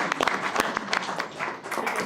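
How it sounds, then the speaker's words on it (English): Brief burst of applause from a small group at a city council meeting, a few uneven claps close by with some background murmur. "All right, round of applause."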